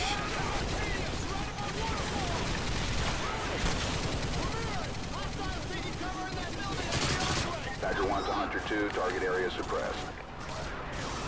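Unsuppressed gunfire at an infantry checkpoint in Call of Duty Modern Warfare 2, shots crackling in steady bursts amid game noise while voices talk over the action.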